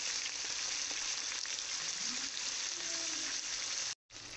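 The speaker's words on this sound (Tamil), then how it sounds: "அதுக்கு அடுத்ததாக வெங்காயம் தக்காளி நல்லா சேர்த்துட்டு நல்லா வதக்கி கொடுங்க." Onions and tomatoes sautéing with garam masala in a pan for mutton biryani, a steady close sizzle and frying crackle with faint stirring, briefly cut off near the end.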